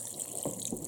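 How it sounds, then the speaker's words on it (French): Water poured from a tap into a pressure cooker while cooking red beans, a short close splashing fill with two brief swells, no talking. "je vais mettre encore un petit peu d'eau"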